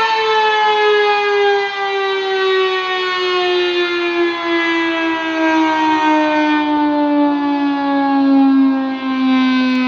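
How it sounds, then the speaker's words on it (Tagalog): A civil defense siren sounds the one o'clock signal inside a naval base in Cavite, a loud, steady wail that glides slowly downward in pitch and carries unbroken for ten seconds with no voices. "yung narinig ninyo ay siren po yan mga guys dito sa loob ng base"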